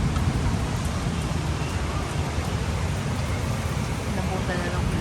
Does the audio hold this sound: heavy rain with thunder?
yes